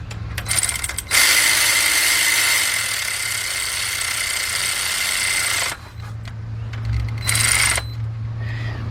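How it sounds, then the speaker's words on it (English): A cordless battery-powered ratchet whirs in long steady bursts while tightening oil pan bolts on a 2005 Cadillac CTS 3.6 engine, running close and loud for several seconds, then a shorter second burst after a pause. "Get our battery operated ratchet. Bring them in."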